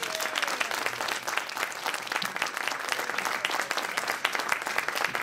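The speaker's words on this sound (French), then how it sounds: "j'aimerais une bonne main d'applaudissement pour Robert" A crowd at a community festival garden-box building workshop gives a sustained round of applause for the presenter, many hands clapping steadily at moderate volume throughout.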